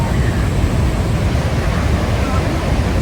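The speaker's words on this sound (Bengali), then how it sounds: "ফলসে পানি পড়ে যাওয়ার আগের জায়গাটা দেখাচ্ছি আপনাদেরকে" Broad, steady roar of rushing water in the rapids just above Niagara Falls, a dense continuous wash of noise with wind buffeting, loud and unbroken throughout.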